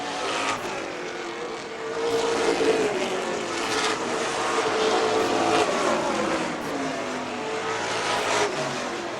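Pro stock race cars roar around a track in a steady engine drone that swells and fades as they pass, with a continuous rough rumble across the whole stretch.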